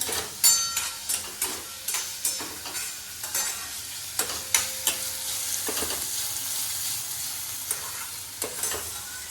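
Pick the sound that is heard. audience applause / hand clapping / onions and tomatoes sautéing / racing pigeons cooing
onions and tomatoes sautéing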